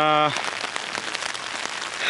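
Rain falling, a steady hissing patter of drops on surfaces that takes over after a brief tonal voice-like sound at the start.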